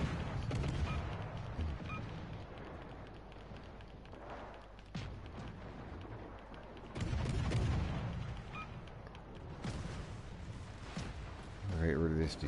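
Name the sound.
warship secondary guns firing at a battleship in video game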